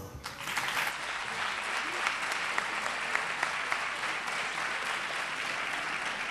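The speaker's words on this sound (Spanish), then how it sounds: "Un aplauso." At the Exaltación a la Mantilla event in Chiclana, an audience applauds a saeta singer, with even, continuous crowd clapping throughout after a brief start.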